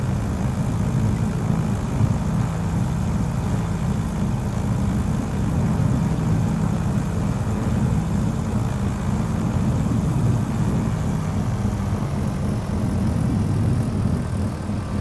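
A steady, loud, low engine drone holds without a break as an aircraft taxis quickly down the international runway at Hobart in Microsoft Flight Simulator 2020.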